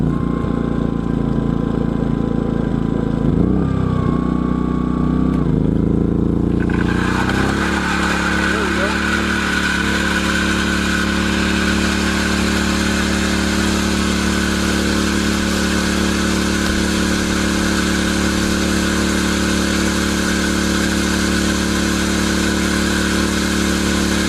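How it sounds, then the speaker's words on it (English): An overloaded generator at an off-grid cabin drones steadily and loudly, its pitch wavering and sagging early on before settling into a constant hum with a harsh, buzzy tone. "Generator overloaded. It almost made it. Let's try it again here."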